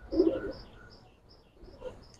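Silver gribaz pigeons coo softly in short low bursts, a pair of murmuring calls near the start and again toward the end, with faint higher chirps from other birds in the background.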